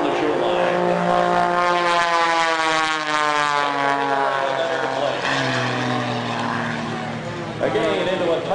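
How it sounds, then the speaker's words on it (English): A propeller airplane flies aerobatic manoeuvres over a shoreline at an air show, its engine a loud, steady drone with a rising and falling pitch through the turns, and a commentator's voice runs over it the whole time. "Rotates the airplane 3/4 of a turn this time to put herself back on the shoreline."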